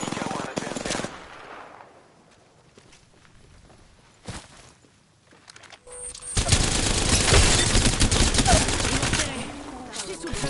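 Automatic weapon fire from the video game Apex Legends: scattered shots early, then a long, loud, dense stretch of rapid gunfire bursts filling the second half.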